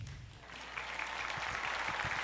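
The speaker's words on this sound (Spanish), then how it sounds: "fuertes aplausos al regidor de la Provincia Constitucional del Callao, el señor Ángel Estación" Applause for a city councillor of the Constitutional Province of Callao at a pro-life forum in Peru: steady, dense clapping from an audience that swells slightly after the first moment and continues evenly throughout.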